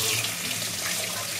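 Clean water from a tap runs steadily into a plastic water filter bag as it is rinsed out, a continuous close splashing rush with no talk.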